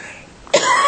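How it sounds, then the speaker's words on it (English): A single sharp cough from a mayor during a city council meeting, bursting out loudly and close after a few quiet moments of room tone. "because I'm coughing."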